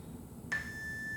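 A workout timer buzzer sounds: a thin, steady electronic tone starts suddenly and holds, fairly faint above a low background hum.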